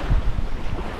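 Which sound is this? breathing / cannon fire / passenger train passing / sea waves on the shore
sea waves on the shore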